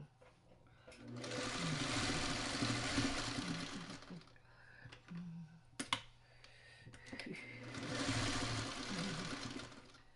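A sewing machine stitches quilt pieces in two sustained runs of fast, even whirring, with a pause of clicks and handling noise in between.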